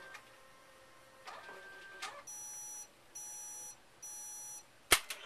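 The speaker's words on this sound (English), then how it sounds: "These 3 beeps alert you that the disc repair cycle is completed." Three steady electronic beeps from a disc repair machine signal the end of its cycle, sounding in an even rhythm, each held briefly, with soft mechanical whirring before them and a sharp click after.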